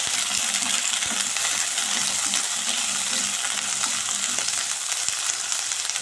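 Green peas frying in a pan with already-fried onions, the peas added raw. The sizzle is loud and continuous, with occasional light clinks and scrapes of stirring and no voices.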